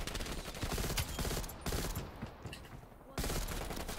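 Rapid automatic M16 rifle fire in a first-person shooter, loud and close, in dense continuous bursts broken by a short pause, with a faint voice underneath.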